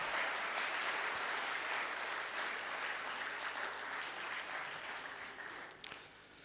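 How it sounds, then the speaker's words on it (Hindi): Sustained applause from an audience at a Pathan mushaira, an Urdu poetry gathering in Bahrain, honoring a ghazal poet. Dense, even clapping holds steady throughout and thins slightly near the end. "भरपूर ताली"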